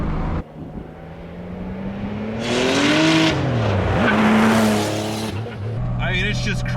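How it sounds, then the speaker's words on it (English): A turbocharged Porsche 911 Turbo Carrera accelerates hard, its engine note climbing and falling through gear changes with loud boosted roar and whooshing turbo surges, close and dominant, with voices over it. "it's just crazy to have a boosted car like this. The way the lag hits"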